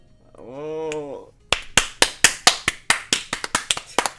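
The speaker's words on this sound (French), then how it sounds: "On applaudit." Crisp, rhythmic clapping from the Ace Attorney video game, about a dozen fast, distinct claps coming close and loud, preceded by a brief sustained vocal sound.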